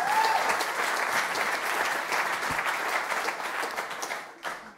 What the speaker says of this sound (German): Ein Applaus dafür.